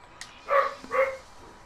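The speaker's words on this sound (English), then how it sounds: "my dog's going crazy again." A pet dog barks twice in the background of an Assassin's Creed Unity gaming session, two short, moderately loud woofs about half a second apart with game audio under them.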